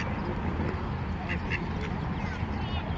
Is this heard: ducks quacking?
yes